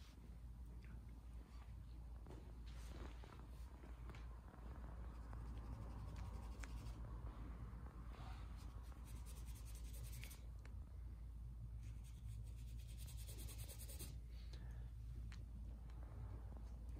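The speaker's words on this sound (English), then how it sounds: "I have to almost scrub it to get the paint down into the weave of the canvas." Stiff paintbrush scrubbing paint into the weave of a rough cloth canvas, a steady close scratchy rasp that continues throughout with busy irregular strokes and no talking.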